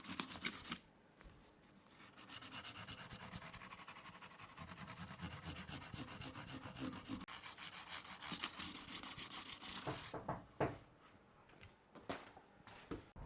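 A guitar body is sanded by hand with 400 and 800 grit sandpaper, making a continuous close, rapid rubbing scratch for several seconds. It ends in a few short, sharper scrapes.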